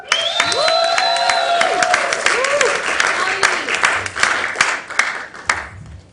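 A church service audience applauds as Phil comes on stage: a dense, steady wash of clapping with a few whoops and whistles on top, fading toward the end.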